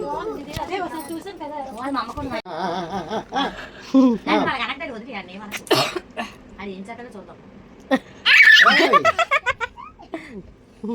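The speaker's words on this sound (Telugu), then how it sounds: "వద్దురా దగ్గు." A small child coughs in a short burst of repeated hacks near the end, amid lively chatter and laughter from several people at a home annaprasana rice-feeding ceremony for an infant boy.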